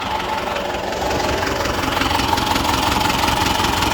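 A warm tractor diesel engine idles with a steady, loud, low rumble and faint knocking, close by and continuous with no talk.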